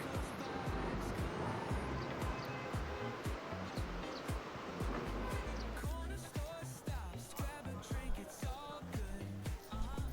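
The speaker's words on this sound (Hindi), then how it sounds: "पूरी रात ये नदी की आवाज़ कानों में आ रही थी।" Constant rushing water from a river flowing behind a homestay near Gangotri, a steady broadband roar with scattered clicks and knocks over it, moderately close.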